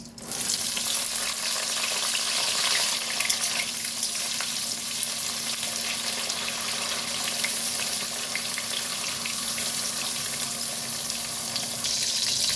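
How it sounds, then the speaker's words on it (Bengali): Eggplant slices frying in hot oil, a steady dense sizzle that holds at an even loudness throughout with no talking. "এবার ভেজে নেব বেগুন।"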